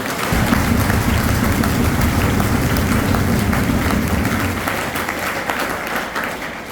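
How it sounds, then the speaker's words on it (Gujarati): Guests at a Praveshotsav school entrance ceremony are welcomed with steady, thunderous applause from a gathered crowd, dense and continuous, easing slightly toward the close. "અત્રે ઉપસ્થિત તમામ મહેમાનોનું આપણે સૌપ્રથમ તો તાળીઓના ગડગડાટથી સ્વાગત કરીએ"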